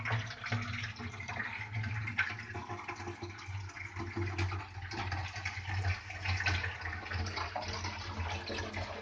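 Water runs steadily from the tap of an automatic water refill depot machine, a continuous splashing hiss with a low hum underneath, close and fairly quiet, no voices.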